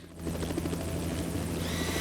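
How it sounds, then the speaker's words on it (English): A drone swarm approaching over the Hudson gives a steady, loud rotor drone, a dense continuous whir with a rising hiss near the end, heard alone without talk. "A drone swarm is rapidly approaching from the distance."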